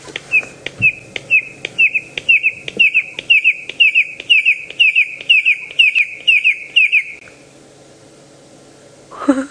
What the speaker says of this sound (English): This is a red-crested Korhaan we are looking at.